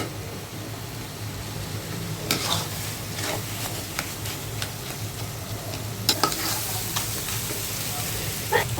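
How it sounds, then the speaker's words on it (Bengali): Taki fish vorta is stirred and fried in oil in a pan. A steady hiss and sizzle runs throughout, punctuated by repeated scraping strokes of the spatula, some sharper than others. "কিছুক্ষণ নেড়ে চেড়ে ভেজে নেব"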